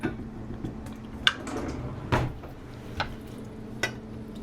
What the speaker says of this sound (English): I am going to grab my little whisk, whisk, so I can break up this flour a little bit.